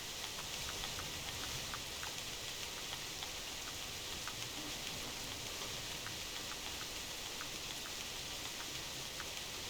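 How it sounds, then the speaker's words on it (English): Steady rain in the hunting game theHunter Classic, a soft, even patter with scattered distinct drop ticks, continuous and fairly quiet throughout with no voices. "It would have been nice, Moan, if it wasn't raining again and I would have been able to see it a little bit better"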